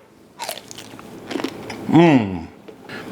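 A Texas Red Hots sausage with a snappy casing is bitten, giving one loud, close crunching snap near the middle, with softer handling noises before it.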